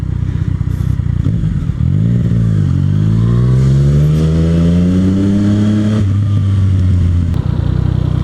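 A 2014 Yamaha FZ-09 motorcycle being ridden, its engine revving up through a rising, steady whine before dropping back, loud and close with constant wind rush.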